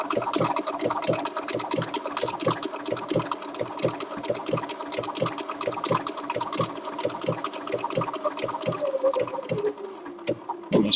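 A Bernina sewing machine runs at top speed, stitching steadily in a loud, fast, continuous rhythmic whirr with rapid needle taps, slowing slightly near the end as it approaches a corner.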